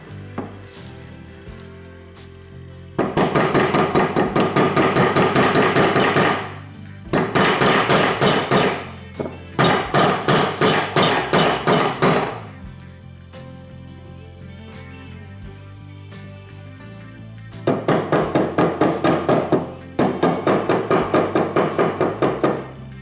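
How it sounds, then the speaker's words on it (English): A bearing is driven into a Yamaha Blaster engine case with an axle nut socket and a hammer, in five bursts of rapid, loud, steady metallic blows separated by short pauses. "use that hammer and drove it in."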